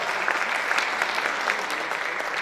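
A roomful of people at a school coaches and advisors meeting clap continuously for Bonnie Small, a steady, moderately loud patter of hands with no talking.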